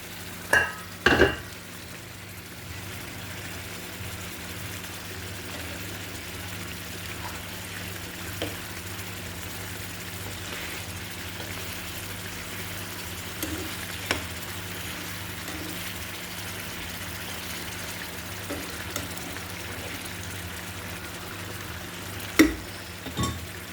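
Koi fish curry simmers under a lid in a pan, making a low, steady bubbling sizzle with a few sharp clinks and knocks scattered through.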